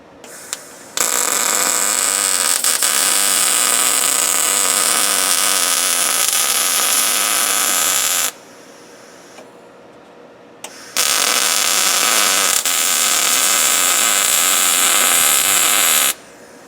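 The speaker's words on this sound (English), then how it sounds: "getting started on welding this in." Steel bracing is welded onto the bottom of a lawn trailer with a powered dump bed, giving a steady, loud electric buzzing crackle that runs in two long bursts with a quieter pause between them.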